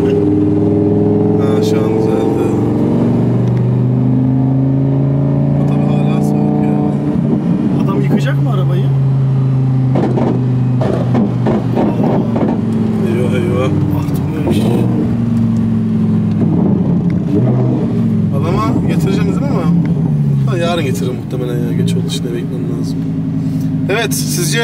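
An Audi R8 exhaust roars and revs loudly and close, the engine note rising and falling in repeated pulls with crackles, while someone talks over it.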